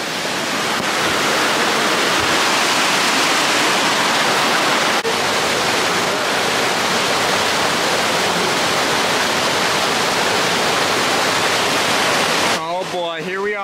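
A river stream rushes steadily around someone sitting mid-current, a loud, close, unbroken wash of flowing water for the whole stretch, with a brief voice-like sound right at the end.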